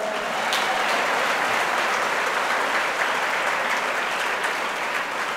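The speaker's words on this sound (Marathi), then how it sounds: "तिच्यासाठी एकदा जोरदार टाळ्या होत्या" Audience at a kirtan birthday celebration breaking into loud, sustained applause, a dense steady clatter of many hands clapping together throughout with no voices over it.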